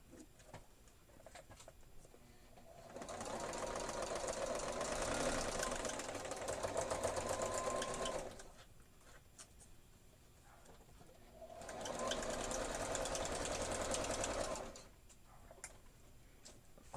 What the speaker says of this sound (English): I'm just going to lean over here to the sewing machine